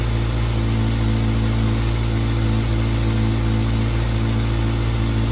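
A 2023 Kawasaki ZX6R race bike engine idling high at around 2,000 RPM, a loud, close, steady drone with strong low harmonics that stays even throughout, with no talking.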